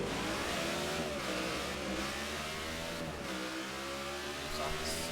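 NASCAR stock cars in the NASCAR '15 video game scream steadily at full throttle during a race, a loud continuous engine whine with slight pitch dips as gears and corners pass.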